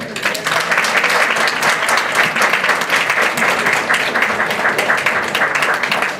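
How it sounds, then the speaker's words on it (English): The audience at a North Beach town council meeting gives a round of applause, a loud, continuous burst of many hands clapping that holds steady for several seconds with no talking. "Let's give them a round of applause."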